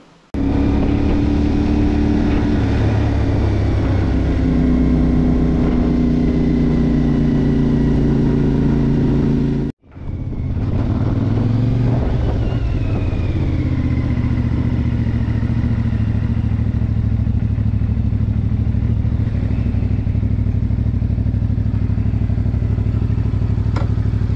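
A CFMoto 450MT motorcycle rides through city traffic, its mid-pitched engine droning loudly and continuously with shifting revs, a brief cut near the middle, then pulling away again amid passing traffic and wind.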